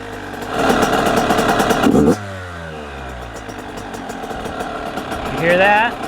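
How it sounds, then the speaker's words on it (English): A brand-new Yamaha YZ85 two-stroke dirt bike, running rich and fouling plugs, idles close by after one kick with a buzzing, popping note that blips up and then settles, with a voice talking over it. "Started easily, 1 kick without touching the throttle."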